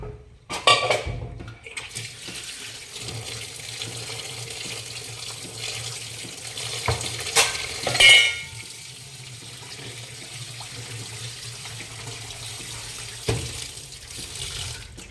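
Water runs and splashes steadily over fresh paneer in a bowl, with a few clanks of a metal vessel along the way; no speech.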